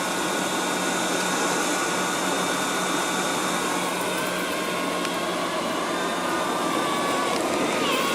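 A LIECTROUX B6009 robot vacuum cleaner running, giving a steady, close whirring motor hum and constant airflow hiss throughout.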